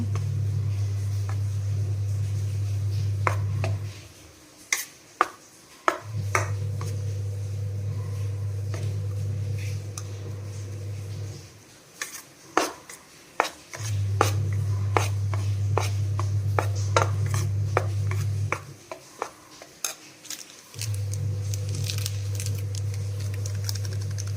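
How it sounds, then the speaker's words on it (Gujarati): Idada batter with Eno mixed in gets stirred in a bowl, giving soft repeated scraping and tapping strokes in bursts, with a low steady hum running beneath most of it. "આપણે ઈનો નાખી દીધો છે અને આપણે હલાવશું હવે બેટરને"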